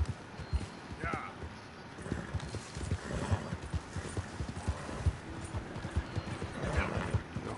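Rhythmic clip-clop of horse hooves at a fast pace in Red Dead Redemption 2, with an occasional whinny, steady throughout in a game-like mix.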